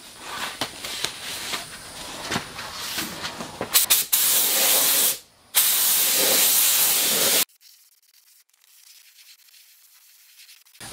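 A spray gun atomizes PVA release agent onto waxed fiberglass molds, giving loud, close hissing bursts in several spurts that end abruptly and leave quiet room tone.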